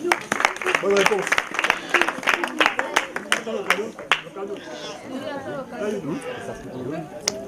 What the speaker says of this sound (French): Ok, on applaudit pour elle.